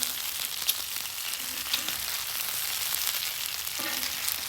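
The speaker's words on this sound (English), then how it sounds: "cook that bacon all the way through" Bacon frying on a flat top grill, a steady close hiss of sizzling fat with faint scrapes and pops, no voices over it.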